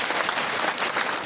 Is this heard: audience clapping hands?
yes